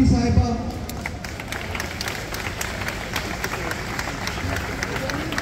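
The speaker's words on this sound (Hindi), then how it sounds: "जोर जोर से ताली है प्लीज" Crowd at a protest on a London street near 10 Downing Street, clapping in a steady, dense burst of applause that carries on throughout while a voice speaks over it.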